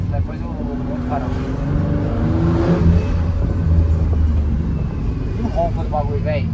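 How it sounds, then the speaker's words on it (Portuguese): A Bentley engine hums and revs beneath a conversation, its deep drone rising and falling while people talk over it. "Sabe o que me lembra muito o barulho desse carro?"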